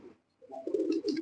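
A silver pigeon in a loft gives a single close, soft cooing call after a brief pause, with faint earlier murmurs.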